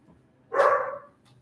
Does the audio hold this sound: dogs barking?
yes